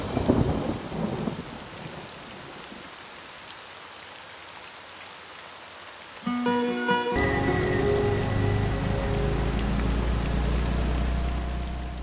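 Steady heavy rain pours down with thunder rumbling through a stormy scene; partway through, music swells in over the downpour.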